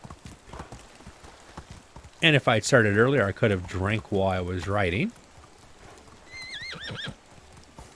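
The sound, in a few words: horse galloping in Medieval Dynasty video game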